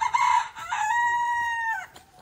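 A large Dong Tao chicken squawks loudly while being caught: a sharp burst, then one long, drawn-out, strained cry close by, trailing off at the end, with no talking over it.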